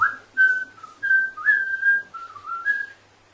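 Someone whistles a short melodic tune, clear bright notes rising and falling in a quick phrase, close and alone.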